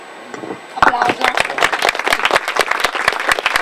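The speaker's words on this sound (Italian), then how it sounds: "Applausi." An audience at an Italian book event bursts into applause, a sudden onset of many close, sharp hand claps that builds into a dense, lively round of clapping.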